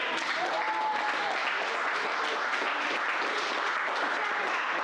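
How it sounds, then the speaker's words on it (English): An audience applauds to open a live panel show, a dense, steady wash of many hands clapping that holds for the whole stretch, with faint voices briefly rising through it. "Let's get a round of applause for Battle of the Sexes"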